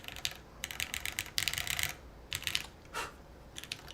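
Typing on a TOFU TKL mechanical keyboard, heard up close in a quiet room: bursts of quick, crisp key clacks in uneven clusters, with short pauses between them.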